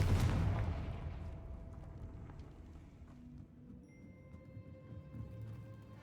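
A fire-spell explosion, Confringo, cast in the video game Hogwarts Legacy: one sharp, booming burst at the start that decays into a low rumbling tail with faint crackles.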